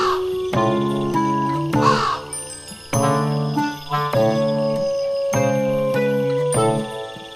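A crow caws twice in short harsh bursts over a loud, bright tinkling music track in an animated Telugu folktale.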